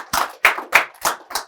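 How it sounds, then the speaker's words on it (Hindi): Audience applause welcoming a guest panel at a UPSC talk session in India: five sharp, evenly spaced claps close up, ringing briefly in the room. "एक बार जोरदार तालियों से हम अपने गेस्ट पैनल का स्वागत करते हैं।"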